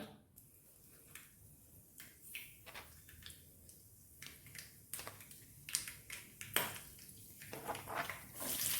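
Mustard seeds splutter in hot coconut oil in a pan, giving scattered sharp pops and crackles of uneven rhythm over a faint sizzling hiss, growing busier toward the end.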